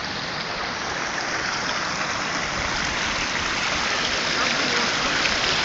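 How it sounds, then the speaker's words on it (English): A river flowing through desert wilderness makes a dense, even rush of water, loud and close, holding steady for the whole stretch with no clear voices. "Out here in the desert to see this river like this flowing"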